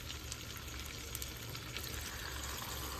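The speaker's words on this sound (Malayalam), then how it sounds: "ഇനി നമ്മൾ എടുത്ത് കലക്കി വെച്ച കോൺഫ്ലവർ നമുക്ക് മിക്സ് ചെയ്യാം" Cornflour slurry stirred into chilli chicken in a hot pan gives a steady, close sizzling wash with faint liquid stirring beneath it, continuous and even with no pauses.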